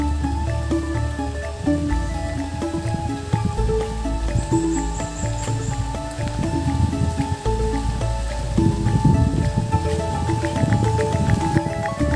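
Steady rain pours down in a village in Trenggalek, East Java, during the rainy season, with a dense, constant hiss and patter in strong wind, layered with background tones throughout.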